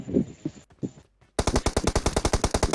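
A gun with heavy recoil fires a loud, evenly spaced automatic burst of roughly a dozen shots, preceded by a few softer, muffled thumps and a brief silence.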